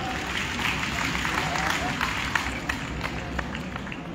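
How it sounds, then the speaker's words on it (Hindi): Applause for a group of girls at an official gathering with a Union minister, steady dense clapping from a crowd sustained throughout, with some voices mixed in. "एक बार इन बेटियों की जोरदार ताली।"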